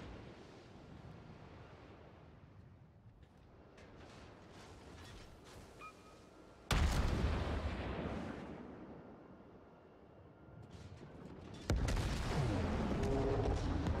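Heavy battleship shellfire in World of Warships pounds a Kirov cruiser under fire from the battleship New York: two loud booming impacts land several seconds apart over a constant rumbling sea-and-engine wash, with no talk.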